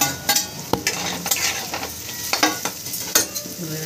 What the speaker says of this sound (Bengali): হ্যাঁ, এবার ডিমটা দিয়ে দিচ্ছি